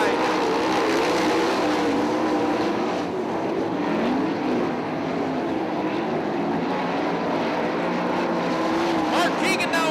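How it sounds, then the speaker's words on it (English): 410 sprint cars race at Attica Raceway Park, a dirt track in Attica, Ohio, their engines a continuous loud roar with pitch shifts as cars pass, while an announcer talks over the noise. "Mark Keegan and Kevin Lee race side by side."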